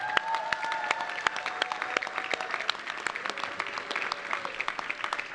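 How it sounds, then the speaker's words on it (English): A crowd gives a steady round of applause at a winter 2024 commencement ceremony for the graduating class. Sharp individual claps rise above a dense, sustained clapping texture, with faint tonal music underneath throughout. "One more round of applause."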